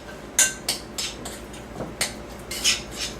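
A spoon scrapes and clinks against a bowl while mayonnaise is mixed into a dish, about ten short knocks and scrapes in an uneven rhythm, close and fairly clear.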